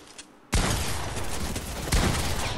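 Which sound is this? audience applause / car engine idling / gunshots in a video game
gunshots in a video game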